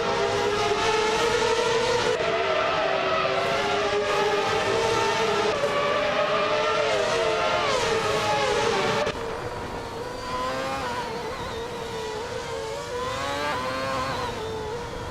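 Toyota TF109 Formula One cars in a racing video game scream in a sustained, high, layered engine whine that shifts pitch as they race, easing to a slightly quieter drone partway through.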